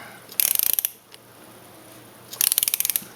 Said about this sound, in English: use your 17mm wrench to snug it up